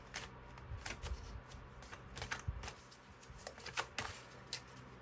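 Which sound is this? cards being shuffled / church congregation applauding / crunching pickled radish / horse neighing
cards being shuffled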